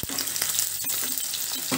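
Onions sizzle steadily in a pan for tofu green peas masala curry, a continuous close frying hiss with a few soft stirring scrapes and no voices.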